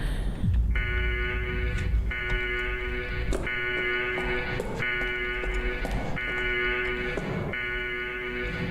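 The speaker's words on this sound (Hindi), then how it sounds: "कोई अलार्म बज रहा है।" Alarm ringing in a haunted hospital video game, loud repeating electronic bell-like tones in bursts of about a second, separated by short gaps, with low rumbling underneath.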